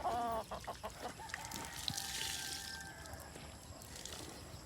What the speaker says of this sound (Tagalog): Dami lang manok, no?